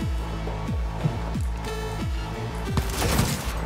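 Rapid pistol fire from a Cyberpunk 2077 firefight, a steady run of sharp repeated shots layered over a dense game soundtrack with booming low hits, continuous and loud throughout.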